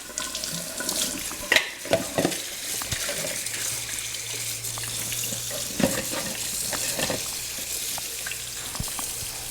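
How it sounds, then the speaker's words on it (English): Cold water runs steadily from a kitchen tap over freshly cooked lobsters, a continuous rushing splash with a few louder clatters and knocks as the shellfish shift in the sink. "We're gonna take these lobsters and we're gonna immediately put them in some cold water."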